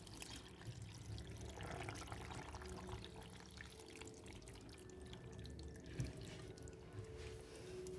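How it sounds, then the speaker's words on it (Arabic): Milk is poured onto macaroni in a blender, a faint, steady liquid trickle that is continuous and quiet throughout, with one small bump near the end. "هبتدي اضيف اللبن عليها"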